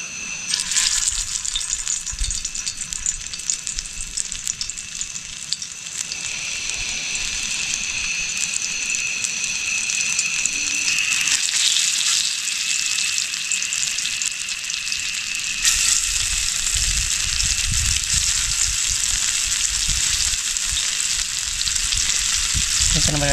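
Snakehead fish frying in hot oil in an outdoor setting, with a loud, steady, continuous sizzle that swells as more fish go into the pan and holds through to the end.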